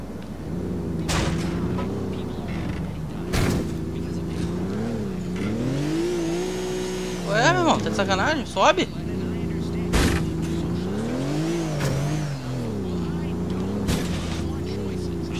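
A car in GTA IV multiplayer drives with a steady engine drone that rises and falls as it revs, with a brief burst of harder acceleration midway, while people talk over it.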